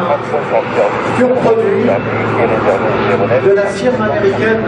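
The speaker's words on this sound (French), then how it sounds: "C'est un avion effectivement un peu particulier parce que vous allez le voir dans ce passage public" A North American-built aircraft passes at an airshow, its engine roar steady and broad beneath loud public-address commentary that continues throughout.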